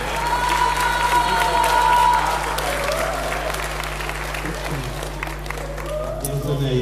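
Spectators at a youth sports tournament in Czeladź applaud the Zagłębie Sosnowiec team, with loud continuous clapping and some cheering over a hall's background hum, and voices and a tonal note heard early on.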